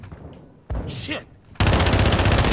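Video game gunfire erupts in bursts, with an initial volley, a sharp effect, then a loud sustained rattle of rapid shots near the end.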